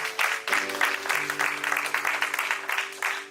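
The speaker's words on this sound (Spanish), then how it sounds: "Denle un aplauso, Señor." Applause from a church congregation during a Spanish-language worship service, steady clapping across the whole stretch over sustained organ or keyboard chords.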